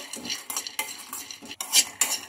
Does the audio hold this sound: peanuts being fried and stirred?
yes